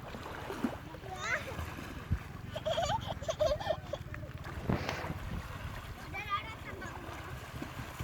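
Splashing of someone swimming in the sea off an island beach, heard as irregular watery splashes under wind and surf, while children and adults talk nearby.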